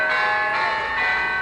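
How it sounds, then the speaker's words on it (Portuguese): A bell rings steadily with a sustained, resonant metallic tone and rich overtones, loud and close, filling the short moment without any voices. "É claro que esse não é o sino do Chimbica."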